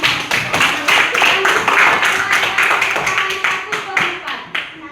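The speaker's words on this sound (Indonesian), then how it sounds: "Tepuk tangan untuk teman-teman" A group of primary school pupils in a classroom claps in a quick, steady rhythm for several seconds, loud and close, with voices mixed in beneath the clapping.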